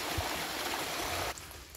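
Clear spring water flows from a mountain source on Gunung Slamet, a steady close rushing wash that cuts off abruptly partway, leaving faint rain-like hiss behind.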